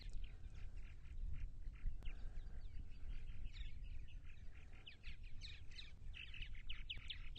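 Purple martins calling around a colony on eastern Long Island, New York, on an overcast morning after overnight rain, with busy overlapping chirps and gurgling notes over low outdoor rumble, fairly faint.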